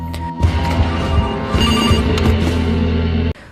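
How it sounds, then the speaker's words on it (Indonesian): An old-style telephone bell rings loudly and continuously for about three seconds in a film scene, then cuts off abruptly. "bergegas kembali hanya untuk mengangkat telepon"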